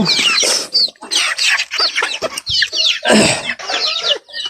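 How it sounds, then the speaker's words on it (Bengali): Several desi chickens cluck and squawk close by at feeding in a busy, continuous chorus with overlapping calls and no pauses. "এটা অনেক দুষ্ট একটা মুরগি"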